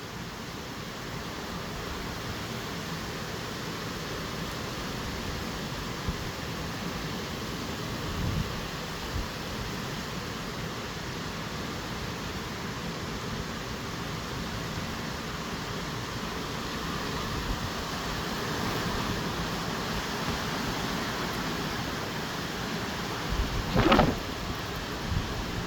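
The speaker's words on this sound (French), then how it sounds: "Il pleut tellement violemment." Violent rain and gusting wind as Storm Goretti hits Bordeaux, a dense, steady roar of downpour and wind throughout with a few louder gusts and thumps near the end.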